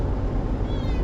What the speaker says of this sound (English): sorry if you can hear a cat screaming in the background